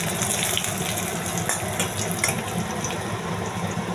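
Cumin seeds and dried red chillies sizzle in a little hot oil for tempering dal, a steady close crackling hiss that runs unbroken throughout with no talking.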